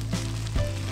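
Tiger prawns sizzle in garlic butter in a pan, a close, steady crackle with a faint stir partway through.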